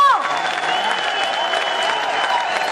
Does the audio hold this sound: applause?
yes